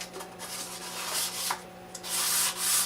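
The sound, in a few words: hand sanding a wood finish to remove nubs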